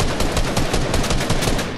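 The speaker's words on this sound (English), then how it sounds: "Keep shooting him for me." Rapid automatic gunfire from a Fortnite match, a dense continuous burst of loud shots rattling without pause for the full stretch.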